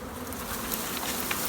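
A dense, steady buzzing of a honeybee swarm close by, being coaxed into a box, continuous with no pauses.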